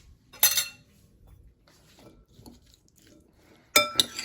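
A utensil stirring food in a bowl, with a sharp clatter at the start, quieter scraping and shuffling through the middle, and another loud burst of clinks near the end.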